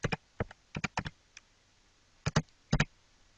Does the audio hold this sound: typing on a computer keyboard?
yes